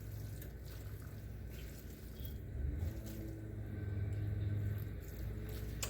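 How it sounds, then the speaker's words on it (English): Lawn mowers running outside on wet grass give a faint, distant, steady engine drone with a low rumble and a broad hiss that swells slightly midway. "So we'll have to put up with the mowers here for a bit."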